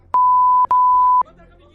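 Two long, steady electronic beeps from a phone call sound one after the other, loud and clear with a short gap between them.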